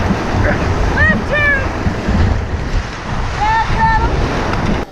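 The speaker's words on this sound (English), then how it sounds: "We raft about 20 miles downstream through rapids called the Toilet Bowl and Raft Ripper and the Staircase." Loud, rushing whitewater rapids on a river during a raft trip, a steady roaring wash with wind buffeting, and brief whistle-like tones rising over it.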